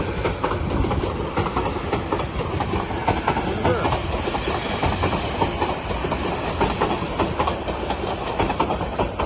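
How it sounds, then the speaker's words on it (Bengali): A train passes close by with a loud, continuous clickety-clack of wheels on rails and a steady rumble lasting throughout, as voices are heard underneath. "ওই যে আরেকটা ট্রেন, আরো একটা ট্রেন।"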